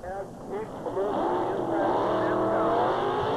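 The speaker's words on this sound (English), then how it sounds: "He's got a 454 cubic inch Chevrolet engine, about a 1953 GMC." A 1953 GMC pulling truck with a 454 cubic inch Chevrolet engine roars steadily at a tractor pull, the loud engine note building and holding under a booming announcer's voice.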